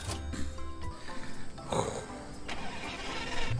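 A car engine in the video game Car for Sale Simulator 2023 cranks and starts, a short starter whir giving way to a steady mid-pitched idle that carries to the end, loud and close with no talking.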